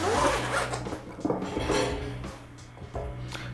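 The zipper on an Ikan BeHolder DS1 carrying case is pulled open in a few loud, close ratcheting strokes, then quieter zipper rasps and handling clatter, with no one talking.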